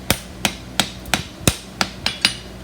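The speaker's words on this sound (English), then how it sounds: "Now I'm going to hit with the edge of my hammer right there." Sharp metallic hammer strikes on an aluminum bar ring out one after another, about eight glancing blows with the hammer's edge at a steady, unhurried pace, close and loud.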